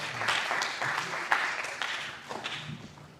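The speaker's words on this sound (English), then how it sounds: "Let's give a big round of applause for." An audience at a competition finale event gives a modest round of applause after a Q&A session, a soft, scattered clapping that thins out and fades toward the end.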